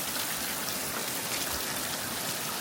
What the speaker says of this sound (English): we have a rain gutter there, but it's too much. It is overflowing.